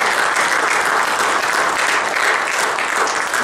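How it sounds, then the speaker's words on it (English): A church congregation breaks into a brief, dense burst of hand clapping in praise, loud and continuous throughout. "Come on, can we give the Lord a hand clap of praise?"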